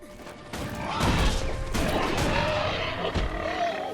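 Loud, crashing explosions and impact bursts from Guild Wars 2 combat, several heavy blasts following one another in quick succession over a dense layer of game noise.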